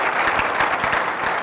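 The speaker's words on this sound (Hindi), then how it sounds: "यीशु के नाम को जलाल देने के लिए जोरदार तालियां बजाएं।" Worshippers at a Friday church service clap together in loud, dense applause, a quick steady patter of many hands filling the room, with no voices over it.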